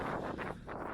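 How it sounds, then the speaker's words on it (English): Gusty wind buffets the microphone on an open marsh beside an old RAF Chain Home radar station at Rye, a steady broadband roar with a brief lull midway, no voices. "it's very windy here because we are on the marsh"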